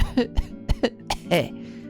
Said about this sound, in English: She coughed and coughed.